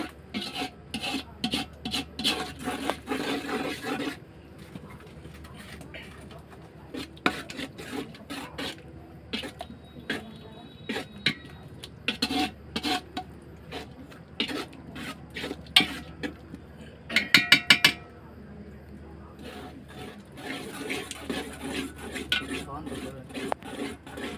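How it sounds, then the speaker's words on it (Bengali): A spoon scrapes and stirs spices and rice for khichuri in a pot, giving repeated rasping, clinking strokes in irregular bursts with a few short pauses and sharper metallic scrapes. "এখন লাড়াচাড়া করবো কিছুক্ষণ কষিয়ে নিবো"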